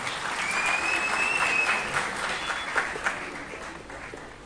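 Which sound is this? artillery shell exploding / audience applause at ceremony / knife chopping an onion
audience applause at ceremony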